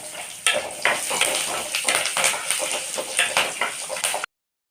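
Small onions frying in a pan for chutney, with loud crackling sizzle broken by the scrape and clatter of a spoon stirring, close up.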